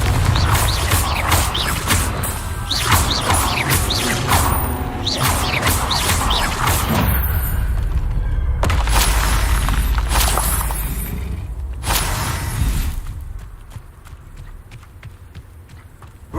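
Confringo fire spells in Hogwarts Legacy go off as a dense run of loud, close blasts and crackling impacts over rumbling battle noise, then fade to a quieter hum near the end.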